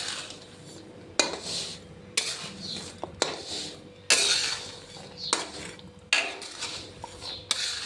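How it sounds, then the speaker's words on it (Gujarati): Peanuts roasting in a pan over a low gas flame are stirred steadily, giving repeated close scraping, rattling strokes about once a second with brief pauses between. "અને બીને આપણે ત્યાં સુધી શેકવાના છે કે સોતરી અલગ પડી જાય ત્યાં સુધી આપણે ધીમે ધીમે હલાવ્યા જ રાખવાના."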